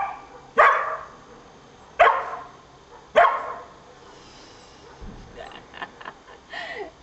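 A dog barks on command three times, loud and close, each bark about a second apart, followed by softer whimpering and yips.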